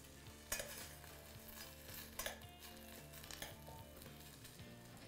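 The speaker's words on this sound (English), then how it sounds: "You can see they're already kind of starting to pop in the heat." Blueberries cooking in a hot pan give a steady sizzle, with a few sharp pops and clinks of a utensil stirring against the metal. The sound is close and continuous, and no one talks.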